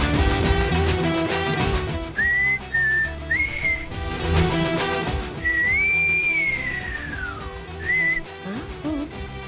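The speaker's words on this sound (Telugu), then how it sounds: "ఈ ఈల మన ఇంట్లో నుంచే వినపడుతుందేంటి?" Someone whistles indoors in a home: several short rising and sliding tones, then one long gliding note that falls away, heard over background music.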